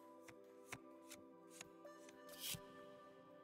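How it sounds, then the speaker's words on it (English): Tarot deck shuffled in The Cosmic Wheel Sisterhood video game, a few soft riffling card taps and one longer rustling sweep, quiet over a sustained musical drone. "while I shuffle my deck"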